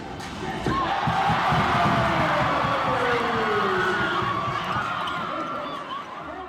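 A packed crowd at a Midnight Madness basketball event roars after a women's team player's successful second attempt, a loud, sustained cheer rising quickly and holding before easing slightly.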